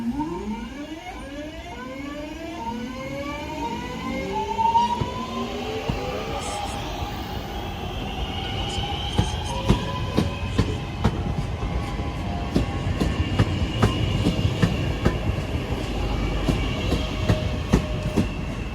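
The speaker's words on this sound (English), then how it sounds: "Departing now is the 1653 Avanti West Coast service to London Euston" A train rumbles and clatters along the rails, with rhythmic clicking and squealing tones rising as it pulls away from Stoke-on-Trent station, steady and fairly close.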